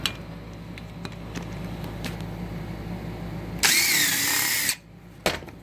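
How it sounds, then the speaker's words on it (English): Power drill whirring in a low steady hum, then a sharp, louder burst of driving as a bolt is backed out of an alternator case, ending abruptly and followed by a faint click. "Let's take this screw, this bolt out of the case, and see what's going on here."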